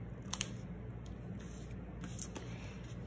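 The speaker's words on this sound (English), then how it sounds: "To make it nice edges, I'm just gonna hand cut and an angle on both sides." Quiet snipping of hand scissors cutting paper at an angle to trim a card's edges, a few soft crisp cuts over low background hiss.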